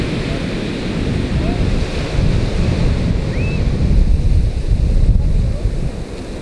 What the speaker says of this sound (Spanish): Olas de más de 3 metros de altura provocaron que el mar se acercara a los negocios